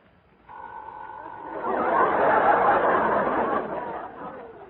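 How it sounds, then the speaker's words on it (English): A telephone rings as a sound effect in a vintage radio comedy set in an office, a short double-tone ring at the start quickly buried under a swell of audience chatter and laughter. "There goes the phone."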